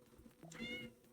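A pet cat in the Omnifactory video game gives a single clear meow lasting about half a second, close and fairly quiet, with no talking over it.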